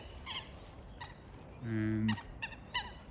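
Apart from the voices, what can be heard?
ducks quacking in Home Park at Hampton Court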